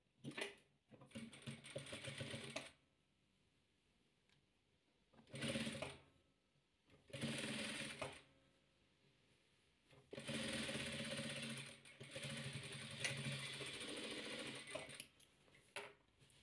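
Domestic sewing machine stitching around hexagonal patchwork pieces, running in several separate bursts of one to three seconds with quiet pauses between, close and clear with no talk.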